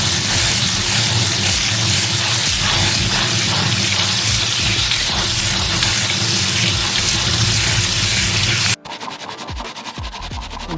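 Canned chickpeas are rinsed under a running kitchen tap, a loud steady gush of water close by that runs unbroken for several seconds before the flow cuts off and the sound changes near the end.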